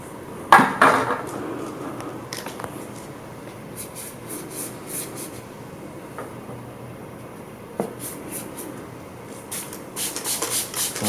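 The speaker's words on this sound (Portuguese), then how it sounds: "Então vou usar um pouco mais de água com spray." A hand-held spray bottle mists water onto a watercolour painting on a hot day: several short, hissing spritzes spread across the clip, mixed with light tapping and handling noises, with no talking.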